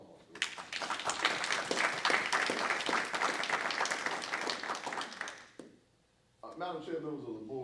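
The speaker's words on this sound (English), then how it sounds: "we could give them a round of applause" Board meeting attendees give a round of applause for a competitive field, with loud, dense clapping for about five seconds that cuts off abruptly, followed by a short silence and then a voice speaking.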